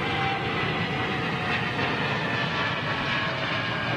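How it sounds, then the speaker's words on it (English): An Air Canada Boeing 787 Dreamliner departs London Heathrow with a continuous, broad jet roar that holds steady at moderate distance throughout, with no voices. "Air Canada's Dreamliner going out."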